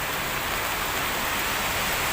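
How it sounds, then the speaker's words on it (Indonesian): Heavy rain pours down outside a Thai restaurant in Makassar, a dense and even hiss that holds steady at constant loudness with no talking. "Tadi di perjalanan belum hujan, tiba di sini langsung hujan deras."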